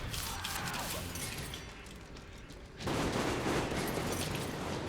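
Gunfire in the video game Metro Exodus, a dense fusillade of shots that grows louder and heavier partway through, with a steady wash of battle noise and no talk.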